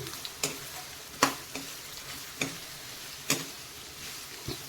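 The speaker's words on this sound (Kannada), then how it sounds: "ಈ ಥರ ಎಣ್ಣೆಯಲ್ಲಿ ಎಲ್ಲವನ್ನು ಚೆನ್ನಾಗಿ ನಾವು ಫ್ರೈ ಮಾಡ್ಕೋಬೇಕು" Carrots and other vegetables stir-fry in oil for fried rice made without sauce, a continuous sizzle punctuated by a handful of sharp spatula knocks spaced about a second apart, close up.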